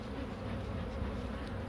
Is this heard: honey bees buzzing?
yes